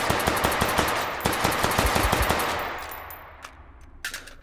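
A Five-seveN pistol fires rapidly in the VR shooting game H3VR, about a dozen sharp, closely spaced shots over two seconds, then tailing off with a couple of faint later clicks.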